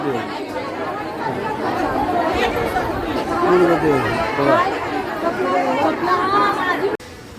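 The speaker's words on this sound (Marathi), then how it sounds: "गर्दी किती आहे फुल" Dense crowd chatter fills the air at a busy temple in Tuljapur, many overlapping voices talking steadily and fairly close, with no single voice standing out.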